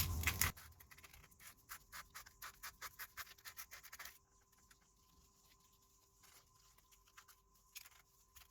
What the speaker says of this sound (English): I'm just using some 100 grit sandpaper. Just clean up the commutator as discussed.